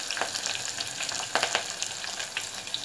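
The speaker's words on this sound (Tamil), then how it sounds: "இப்போ நம்ம வெங்காயம் போட்டுக்கலாம். வெங்காயமும் கருவேப்பிலையும் போடுறேன்." Onions and curry leaves frying in oil for a chickpea gravy, a bright continuous sizzle with occasional crackling pops and spatula scrapes up close.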